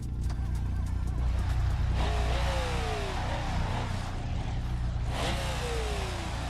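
Car engine in the BeamNG driving game revs and pulls, with two rising-then-falling sweeps as it accelerates and shifts, a mid-pitched steady drone between, moderately quiet and without talk.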